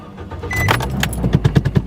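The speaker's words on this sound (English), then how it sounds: "Time to start the car" A car engine is started after a brief jingle of keys, with a few low rhythmic cranking pulses near the end; it is close and moderately loud.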